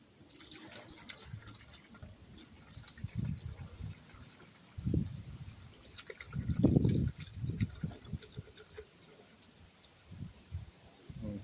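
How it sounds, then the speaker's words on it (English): Muriatic acid is poured into a bucket in uneven spurts, making intermittent liquid splashing and trickling that swells into louder pours before tapering to drips. "So what I'm going to do is I'm going to pour our muriatic acid into the bucket."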